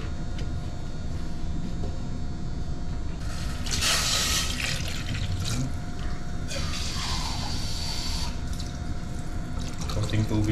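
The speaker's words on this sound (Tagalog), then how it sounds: "Tapos lalagyan na lang natin yan ng tubig." Water poured into a cooking pot for tilapia, loud splashing bursts that start and stop twice over a steady background hum, close by.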